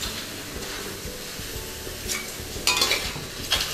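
Squid fries in a hot wok with no oil, a steady sizzle under scraping and stirring, then sharper clatters of a metal spatula against the pan near the end.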